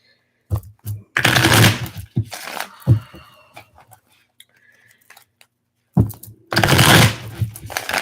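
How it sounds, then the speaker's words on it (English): Tarot cards are riffled and shuffled in two loud, rapid bursts close by, separated by quieter handling and a pause. "I'm just going to shuffle these up here real quick"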